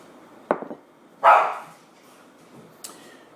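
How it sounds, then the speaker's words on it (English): A puppy barking while playing with a child indoors, three separate sharp barks spaced apart, the middle one loudest and longest, with quiet room sound between. "the puppy's now playing with the middle child"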